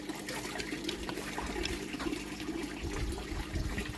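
Water steadily rushing and gurgling as an aquaponics grow bed drains through a bell siphon, a continuous close wash of flowing liquid with no talk.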